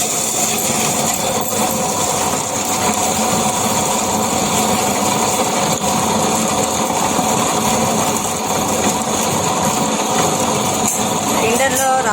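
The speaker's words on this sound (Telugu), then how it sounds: "గ్రైండర్లో రాళ్ళ ఉప్పు చింతపండు బాగా మెత్తగా నలిగే వరకు ఉంచుకోవాలండి." A mixer grinder grinds tamarind with rock salt, its motor holding a steady, loud, high-pitched whirr without pause for the whole stretch.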